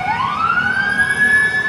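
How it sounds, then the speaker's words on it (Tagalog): A fire truck siren, trailing other fire engines on the way to a fire at Pier Parola, Manila, wails loudly and close, its tone sweeping upward and holding steady over steady road rumble, with no voices. "At may kasunod pa na fire truck"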